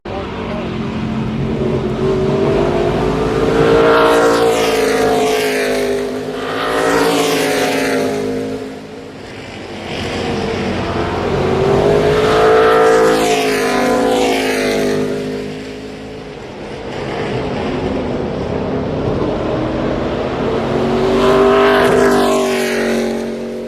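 Historic sports racing cars roar over the curb at turn 3 of Road Atlanta, loud engines rising and falling in several passing waves as each car sweeps by.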